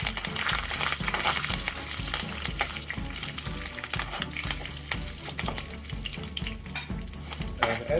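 Curry leaves dropped into a hot pan of oil for a white radish thoran, frying with dense, continuous crackling and spattering that stays loud and busy throughout, with sharper pops breaking through now and then.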